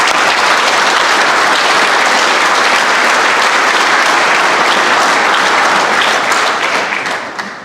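A football banquet audience at a Catholic high school claps long and loud, with dense, steady applause filling the room before it starts to fade at the very end.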